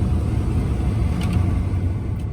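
A car cruises over a very smooth road with a steady low engine and tire rumble, a continuous even drone from inside the cabin with no rattling.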